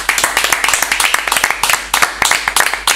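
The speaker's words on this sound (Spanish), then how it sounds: "Se aplauden. Sí. Nos aplaudimos mutuamente." Two elite football players on a talk show applaud each other, producing brisk, close, fairly loud handclaps in a steady irregular patter throughout.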